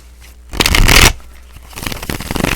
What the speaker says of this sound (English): Let's pull some tarot cards real quick for Aries